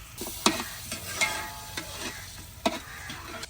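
Whole spices crackle and sizzle as they roast in a hot pan, with a spoon scraping and stirring in several sharp strokes over a steady close frying hiss, and no talk.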